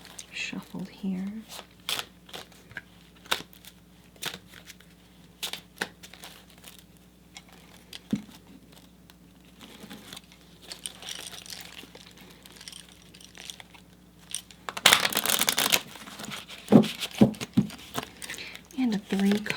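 Tarot cards being shuffled during a gentle, close-up ASMR reading, with soft crinkly riffling under quiet talk and a louder, denser burst of shuffling toward the end.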